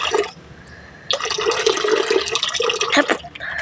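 Water pours and splashes out of a catfish container, a steady gushing stream after a brief splash and pause, close and fairly loud.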